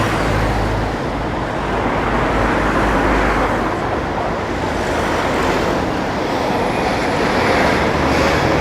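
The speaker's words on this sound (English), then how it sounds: "Wait for the traffic." Road traffic on a London street near Aldgate East makes a steady, dense roar of passing vehicles. The noise is loud and continuous throughout, with no talk.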